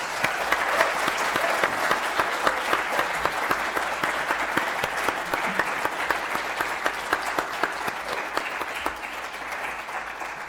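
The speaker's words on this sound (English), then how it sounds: "let's give a round of applause to both our speakers" An audience at an evening talk gives a sustained round of applause for both speakers, dense clapping held at an even, full level for the whole stretch with no voices over it.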